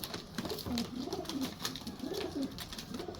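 Domestic pigeons coo in soft, repeated rolling calls, close by, with a rhythmic rise and fall over faint background noise and occasional flutter-like ticks.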